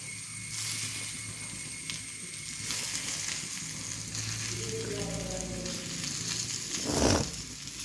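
Chicken pieces sizzling and frying in an iron pan, a steady close crackle throughout with some stirring and a brief louder burst near the end, no voices.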